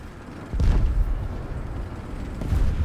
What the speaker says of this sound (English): Oh, bombing run,